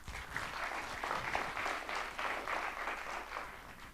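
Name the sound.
audience applause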